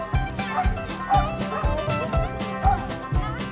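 A dog guarding children barks and yips repeatedly in a rapid, insistent series, loud and close, with whiny edges between the barks.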